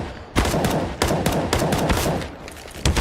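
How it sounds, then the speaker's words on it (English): Rapid gunfire in a CS:GO match during a professional esports tournament, with dense overlapping shots and sharp bursts that are loud and close, starting abruptly and returning in heavy volleys. "Robin moves through and takes a headshot on towards Swaggy."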